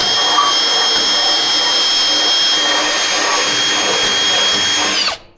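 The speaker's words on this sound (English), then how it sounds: "I just happen to have this cylinder sander" A cylinder sander cleans out a hole in a rear axle part from a 1958 Willys DJ-3A, a loud, steady high-pitched whine that holds for about five seconds and then cuts off abruptly.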